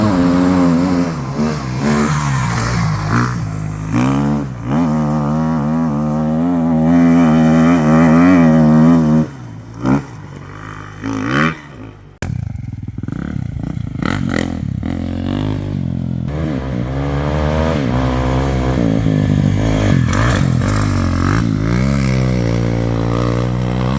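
A Kawasaki KX dirt bike engine revs hard and climbs a steep hill, loud and close, with a steady roar. The roar drops away for a moment, sputters, then returns to a sustained rev.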